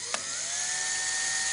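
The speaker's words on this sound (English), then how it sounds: "being careful with this drill as well, I don't want to snap it by being too heavy on it, and I'll just drill a little series of holes." A small 2mm bit drills through the plastic wall of a wheelie bin, giving a steady high-pitched whine with a brief sharp catch near the start, heard close and alone.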